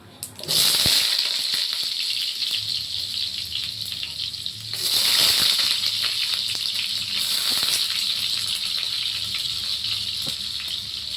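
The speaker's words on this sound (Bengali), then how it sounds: "আলুটা কেটে আমি ধুয়ে টুয়ে রেখেছি, এটাকে এখন দিয়ে দিচ্ছি।" Washed, cut potatoes drop into hot oil in a pan, setting off a loud, close sizzle that surges twice as more pieces go in and then holds a steady bubbling hiss with no speech.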